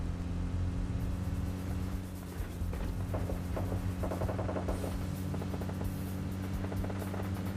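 A car engine drones steadily while driving in the mobile video game PUBG Mobile Lite, a constant hum with faint clicks and rubbing sounds over it and no talking.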